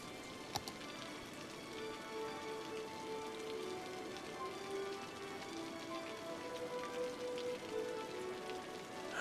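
Steady rain in the city-building game Cities: Skylines gives a soft, constant hiss of falling drops. It is faint and even throughout, with no voices.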